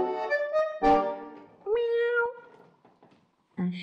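A storyteller's voice imitates a kitten's meow during a spoken fairy tale, giving two or three short, high, tonal mews with brief gaps between them, close and clear.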